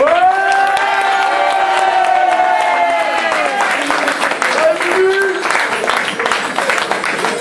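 Applause and cheering from a carnival crowd at a medal ceremony, rising under held musical tones and talk, growing denser and livelier toward the end.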